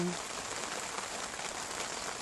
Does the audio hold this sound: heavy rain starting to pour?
yes